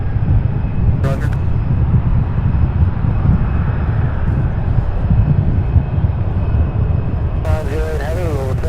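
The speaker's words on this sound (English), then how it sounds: "I can zoom in on the aircraft taking off from 35 left" A UPS heavy freighter jet takes off from runway 35 left at Louisville, its engines giving a steady, loud broadband roar that holds for the whole stretch, with brief radio-style voice bursts near the start and end.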